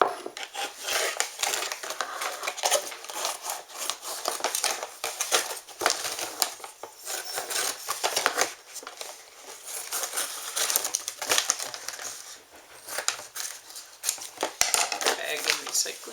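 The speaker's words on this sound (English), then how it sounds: "I cut the label off the bag." A plastic bag that held dried hibiscus is cut and handled, giving close, repeated crinkling and crunching rustles in irregular bursts, with a voice talking over part of it.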